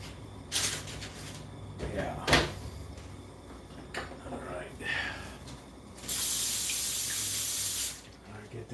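A spray can hisses onto parchment paper during baking, a steady burst lasting about two seconds near the end, preceded by scattered kitchen clatter and handling noises close by.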